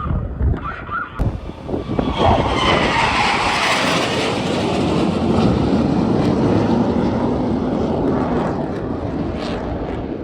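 An F/A-18 fighter jet from carrier air wing CVW-5 roars past in a flyby, a loud, broad rushing jet noise swelling and sustained with wind buffeting, no voices.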